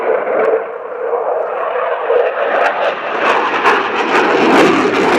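A Boeing F/A-18E/F Super Hornet jet roars past at an airshow at RAF Fairford, a loud, broad engine rumble that swells and brightens with crowd-area crackle over five seconds.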